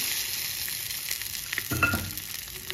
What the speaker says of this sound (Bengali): ডালটা ধীরে ধীরে এটাকে ভালো করে নেড়ে চেড়ে নেব।